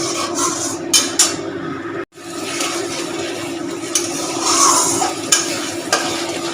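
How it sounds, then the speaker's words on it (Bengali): Spice paste for cauliflower curry is stir-fried in a pan over a high gas flame. A loud, close, steady sizzle runs throughout, with spatula scrapes and knocks. A brief cutout early on drops it to silence for an instant. "এবার আমি ভালো করে কষাবো গ্যাসটা বাড়িয়ে দিয়ে।"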